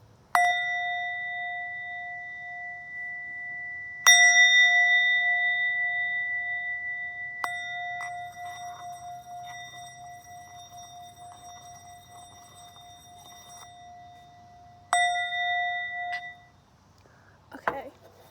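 Struck bell for a sound cleansing rings out in four clear, sustained strikes, each bright tone decaying slowly over several seconds, with a brief rustle at the end.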